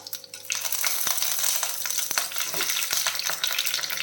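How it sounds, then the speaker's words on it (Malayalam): Dried red chillies and curry leaves crackling in hot oil, a bright steady sizzle with sharp spits and pops scattered across it, close and fairly loud with no voices. "ഇനിയിപ്പോൾ നമുക്കിതിൽ ഉണക്കമുളക് രണ്ടെണ്ണം ഇതുപോലെ ഇച്ചിട്ട് കൊടുക്കാം കുറച്ച് കറിവേപ്പിലയും കൂടെ ഇട്ട് കൊടുക്കാം"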